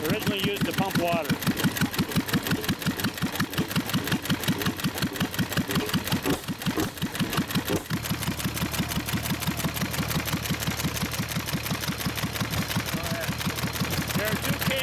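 A 1923 McCormick Deering Model M 1.5 hp International Harvester engine, originally used to pump water, runs in a rapid, even chugging beat throughout, with a person talking over it.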